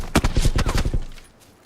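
Rapid burst of gunfire in the battle-royale video game PUBG, about eight loud, closely spaced shots over one second, then fading into quiet room tone.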